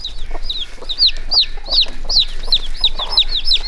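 A hen clucks repeatedly in a quick, steady rhythm close by, with chicks around her, in a farmyard that also keeps goats and pigs.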